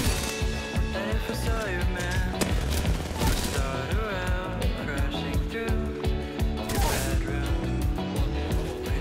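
Gunfire in Apex Legends crackles in rapid bursts under loud, continuous music, with voices in the background.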